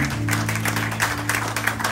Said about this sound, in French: Je vous demande d'applaudir celui qui va venir mettre feuille verte, s'il vous plaît, sur vos applaudissements.